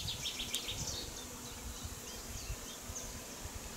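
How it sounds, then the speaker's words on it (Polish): A soft, steady hum of bees buzzing nearby, with a few faint bird chirps in the background. "Pszczoły szaleją, zbierają miód."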